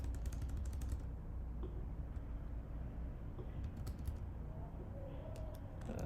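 Quiet, rapid key clicks from a computer keyboard tap along steadily over a constant low background hum, with no voices.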